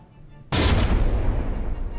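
Turret cannon fire in the naval combat game From the Depths, during an Overlord versus Tennessee tournament battle: a loud broadband blast at about half a second, followed by a sustained rumbling roar that fills the rest of the clip, with no talk.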